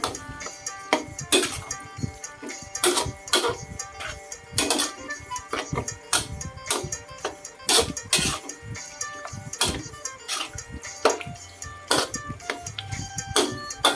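Spicy minced pork balls being stir-fried in a pan, with a spatula clinking and scraping against the metal in irregular, fairly sharp taps over a quiet sizzle, no talking.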